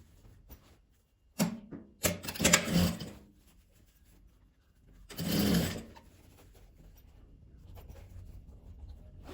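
A sewing machine stitches the seam of a multi-pocket fabric toiletry bag with bias binding, in two short, close bursts of rapid stitching separated by quiet handling.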